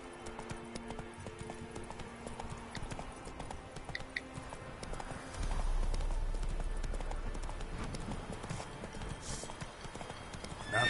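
Hooves of a horse clip-clopping at a gallop in The Witcher 3: Wild Hunt video game, steady rhythmic beats close up over game ambience, with a louder low rumble partway through.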